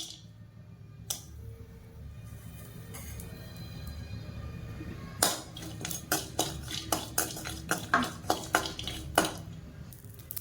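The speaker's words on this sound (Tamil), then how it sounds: "இதில் வந்து இந்த மாசியை போட்டு வறுத்து எடுத்துக்கிறேன்" Dried tuna (masi) being dry-roasted in a metal pan, heard as quiet clinks that build into a run of sharp, rhythmic scraping taps of a spoon against the pan, close and fairly faint.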